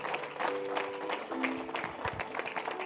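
A church congregation claps in steady, dense applause that runs the whole time, with faint tonal music or voices running beneath the clapping.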